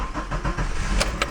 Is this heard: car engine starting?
yes